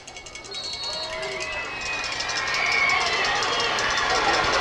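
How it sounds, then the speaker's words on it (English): Crowd at a high school football game between the West Plains Zizzers and Kickapoo Chiefs, noise swelling steadily louder into a broad roar of cheering and yelling from the stands. "Crowd makes some noise for the defense."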